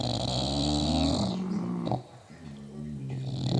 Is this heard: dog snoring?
yes